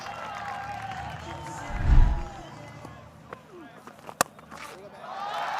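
A cricket stadium crowd at a Pakistan versus Sri Lanka one-day international briefly swells into cheers for a boundary, heard under steady commentator talk.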